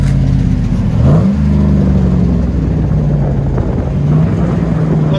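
A 2008 GMC Yukon with a 5.3L V8, dual exhaust and muffler delete idling nearby, a steady deep rumble with one brief rise in pitch early on.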